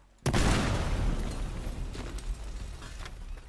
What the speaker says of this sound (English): let's try another explosion